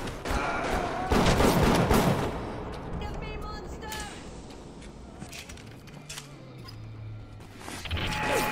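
Bioshock gameplay with bursts of loud gunfire and heavy booming shots over busy combat noise, mechanical clanks and a low moaning tone, while a player's voice talks over parts of it.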